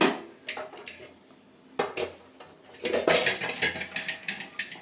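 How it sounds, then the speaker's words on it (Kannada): Metal clatter of a pressure cooker lid being fitted and closed in a home kitchen while cooking sambar, a few sharp clinks and scrapes separated by quiet gaps, close and fairly soft. "ಸೊ ಇವಾಗ ಕುಕ್ಕರ್ ಲಿಡ್ನ ಕ್ಲೋಸ್ ಮಾಡ್ಕೊತಿದ್ದೀನಿ"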